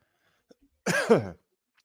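A single short cough with a throaty clearing sound, close by, alone against silence.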